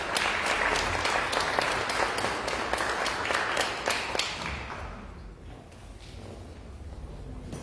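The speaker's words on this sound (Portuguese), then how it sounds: "Dê uma salva de palmas." Church congregation applauding together in a sanctuary during a worship service, dense steady clapping that fades after about five seconds, leaving quieter scattered claps and room murmur.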